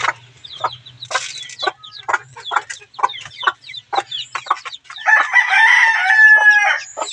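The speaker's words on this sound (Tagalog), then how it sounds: "O ayan na po yung ating bagong nilagay na sisiw sa ating kulungan." Young chicks and hens in a coop make a close, busy mix of short peeps, chirps and clucks, rising into denser, louder calling toward the end, with no one speaking.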